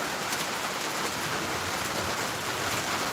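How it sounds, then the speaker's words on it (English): Steady rain falls outdoors in a continuous, even hiss of drops hitting the ground and surfaces, with no voices. "It's raining pretty good."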